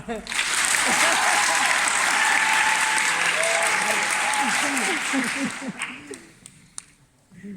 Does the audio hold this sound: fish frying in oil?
no